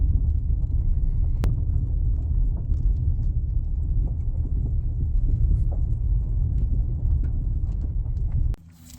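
A vehicle rolls down a long, bumpy gravel driveway, its steady low rumble and road noise constant and close throughout, with faint knocks from the rough surface before it abruptly quiets at the end.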